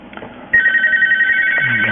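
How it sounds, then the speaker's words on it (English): A mobile phone rings with a steady, bright electronic tone that starts suddenly partway through and holds loud to the end, near a keyboard setup where a coax cable runs to an amplifier. "My phone's ringing."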